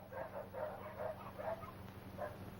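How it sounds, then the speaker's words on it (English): Nervous dogs bark in a handful of faint, spaced bursts, heard from some distance over a low background hum. "What's all the barking about?"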